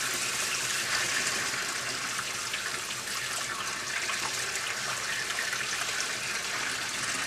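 Water runs steadily from a kitchen tap as it warms up, a constant broadband hiss that holds at an even level throughout with no talk over it.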